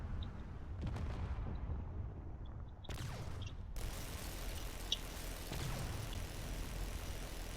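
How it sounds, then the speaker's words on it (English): Warships trading cannon fire in the video game Drone Wars, heard as distant booming blasts and rumbling impacts under a continuous din of battle noise. "There's definitely a lot of cannon fire going on here."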